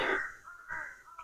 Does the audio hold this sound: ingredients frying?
no